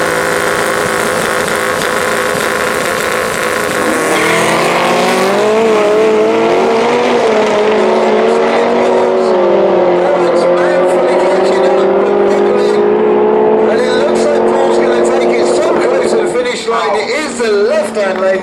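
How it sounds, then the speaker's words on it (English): Two no-prep drag race cars launching side by side down the strip, a loud sustained engine roar rising in pitch as they accelerate, with an announcer talking over it before the sound cuts off near the end. "What a wonderful side-by-side drag race that was."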